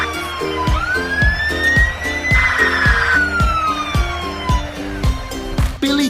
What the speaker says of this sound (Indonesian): Tarik truk pemadam kebakaran ke jalan yang benar